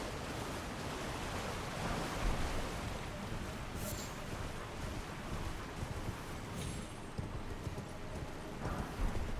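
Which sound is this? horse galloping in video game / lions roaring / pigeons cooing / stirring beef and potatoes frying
horse galloping in video game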